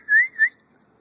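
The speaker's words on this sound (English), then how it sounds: "See, I whistled?" A person whistles two short, bright rising notes in quick succession, close and clear, followed by near silence with no talking.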